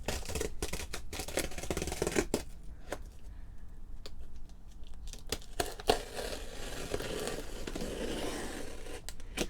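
A mailed package holding gift Bibles being torn open, with a steady run of crinkling, ripping and rustling paper and cardboard close by, sharp tearing bursts scattered throughout and no voice.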